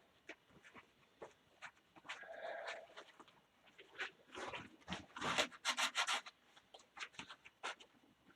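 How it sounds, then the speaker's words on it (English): Hand sanding with 120 grit paper against wood spinning on a lathe gives bursts of scratchy rubbing, short strokes at first, then longer, louder passes, close and alone with no voices. "let's do the ASMR portion of our sanding with a little more 120 before we up the grits"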